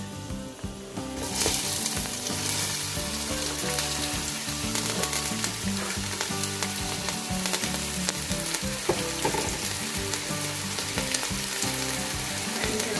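Onions dropped into hot fat in a pan while making beef pepper fry, bursting into a loud, dense sizzle after a quieter first second, then frying steadily up close with faint stirring.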